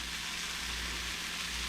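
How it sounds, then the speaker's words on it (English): Continuous loud sizzling and crackling of white fish pan frying in hot oil, close up, with no pauses. "I'm just pan frying it a little bit"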